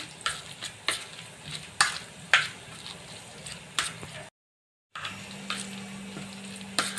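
Salt being stirred into eggplant bharit, a series of close scraping and tapping strokes of a spoon against the pan, a brief silent gap, then a low steady hum under more stirring.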